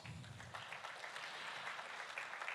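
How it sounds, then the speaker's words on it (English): An audience claps at a live phone launch event for the Oppo Reno 3 Pro, a fairly faint but continuous wash of applause from a crowd in a hall. "How about a round of applause for that?"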